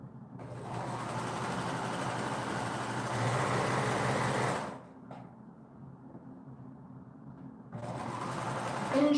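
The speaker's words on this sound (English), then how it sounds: "So now I put them right sides together and I sew down this seam." A sewing machine runs steadily as it stitches a seam on fabric pieces placed right sides together. It whirs continuously for several seconds, briefly stops, then starts up again, with no one talking over it.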